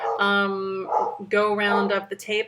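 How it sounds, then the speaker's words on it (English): A dog barks repeatedly nearby, with sharp harmonic yelps and a drawn-out howling bark in short bursts, heard over a person talking. "I apologize for my dog."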